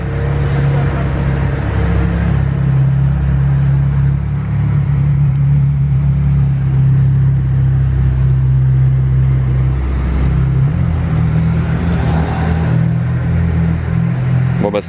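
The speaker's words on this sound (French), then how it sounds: "Ah bah le départ de la Senna" A McLaren Senna supercar pulls away with a loud, steady low engine rumble and a deep drone that holds throughout, with a rise near the end, set among street traffic outside a casino.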